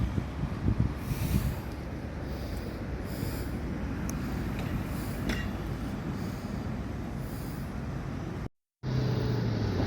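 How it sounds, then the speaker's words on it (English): A bus pulling up at a stop in Bar Hill, its engine a steady low rumble with road noise running continuously before a brief cut, no talking over it. "Here's the bus."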